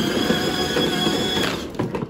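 An EGO 21-inch LM2102SP self-propelled electric mower runs at full speed, giving a steady, loud motor whine with a few knocks and rattles toward the end.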